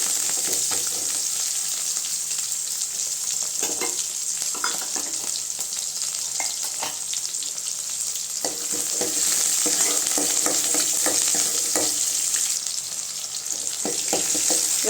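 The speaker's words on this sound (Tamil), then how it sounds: "வெங்காயம்லாம் கொஞ்சம் வதங்கட்டும்." Onions, garlic and curry leaves sauté in a pan for tomato kuzhambu, a steady bright sizzle with occasional crackles and faint stirring scrapes throughout, close and even, without any talking.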